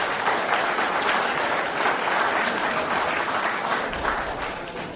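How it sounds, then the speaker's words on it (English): An audience at an environmental, social and governance conference claps for a panel, a thick, even roar of applause that holds steady and eases off slightly toward the close. "Round of applause for the panelists and the audience, please."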